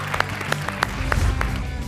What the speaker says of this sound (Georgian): აპლოდისმენტები შენ